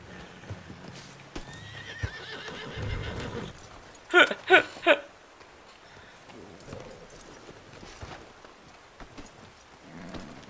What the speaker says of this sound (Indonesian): aku naik kuda jelek